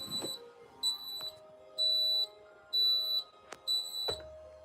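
An alarm clock beeps in five evenly spaced bursts of shrill electronic tones, loud and close, with a faint radio-like hum underneath.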